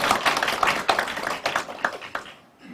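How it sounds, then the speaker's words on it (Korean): Short burst of audience applause at a policy forum on eco-friendly farming in Goyang, a room of fairly close claps that thin out and fade after about two seconds. "한 박수 부탁드립니다"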